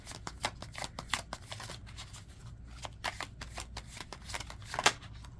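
Tarot cards being shuffled by hand in repeated bursts of riffling and slapping, close and fairly quiet, with one sharper snap near the end and no talking.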